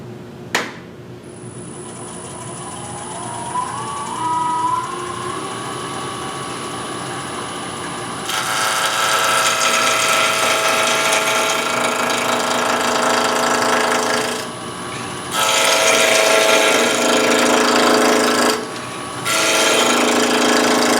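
A wood lathe spins with a steady hum, then a roughing gouge bites into the wood while turning a scoop, producing a loud, rough, continuous shearing roar that briefly stops and resumes twice.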